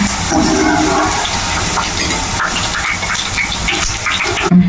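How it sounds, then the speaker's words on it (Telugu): Peanuts deep frying in hot oil for a bitter gourd spice powder, a steady dense sizzle and bubbling hiss that runs unbroken throughout with no talk. "మొత్తం అన్ని డీప్ ఫ్రై చేసుకోవాలి పల్లీలు"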